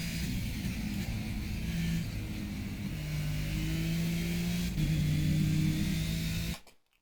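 Racing car engine in Project Cars, an RS.01 at Zolder, accelerating hard out of a corner: a loud, steady, close engine drone with rising harmonic tones running almost continuously before cutting off abruptly at the end.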